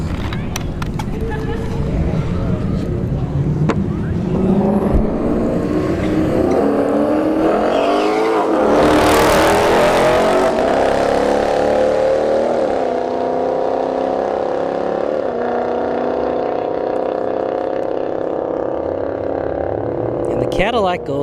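A turbocharged drag racing car accelerates down the strip at a street test-and-tune event, its loud engine note rising steadily over about twenty seconds with voices faintly present underneath.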